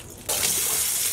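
A dry ball of cotton yarn goes into water, giving a sudden steady rushing, splashing wash like running water that starts abruptly after a quiet moment and holds at an even level to the end.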